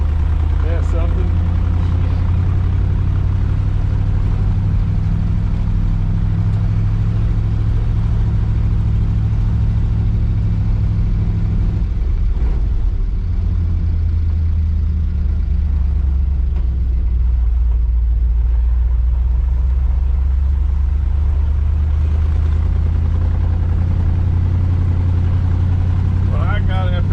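A burnt rat rod with a custom dual exhaust rumbles steadily and deep while driving, a continuous low engine drone with talk over it.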